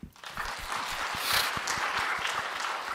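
Church congregation applauding during a Sunday afternoon stewardship dedication service as committee members are introduced; a steady wash of clapping for about three seconds, fairly close and full, with no talk over it.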